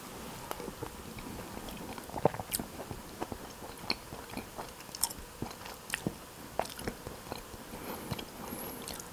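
Someone chews beef stew straight from a pouch, with soft wet bites and irregular crunchy clicks close to the ear, no talking.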